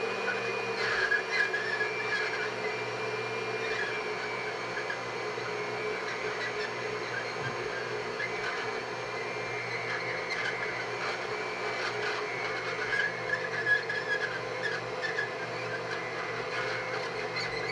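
A blender whirs steadily for a long stretch, a constant mechanical drone with a faint high whine, nobody speaking.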